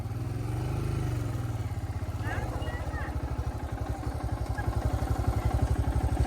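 A Royal Enfield Scram 411 motorcycle rides through deep, slippery mud in Nepalgunj. Its engine throbs steadily up close, with pulses quickening and growing louder toward the end, and a voice is heard briefly at the start.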